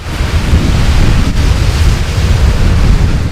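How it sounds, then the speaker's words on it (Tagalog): Loud, rumbling roar of ocean waves crashing on the Batanes coast, heavy low surge with wind buffeting the microphone, no voices. "Hampas ng alon."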